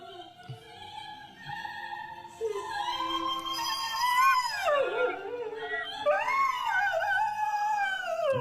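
A greyhound howls along to music, its long wavering yowls rising and falling in pitch over the song, loud and close throughout.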